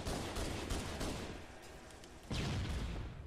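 Rifle fire in Halo MCC multiplayer: dense, loud bursts of gunshots and booming impacts filling the whole stretch, with a sharp fresh volley near the end and no talk.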